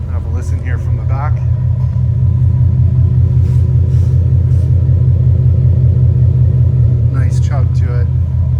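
A 2015 Ford Mustang GT Premium 50th Anniversary convertible idles from behind with a loud, continuous low rumble and rhythmic chug. A voice speaks briefly near the start and again near the end.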